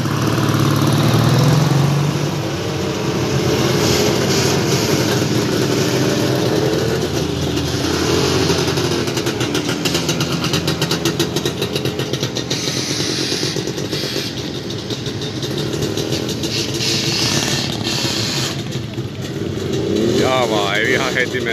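Veteran motorcycles of a Satakunta riders' group set off on a summer ride, their engines idling and revving in a steady, layered rumble that rises and falls as bikes pull away, with people talking now and then.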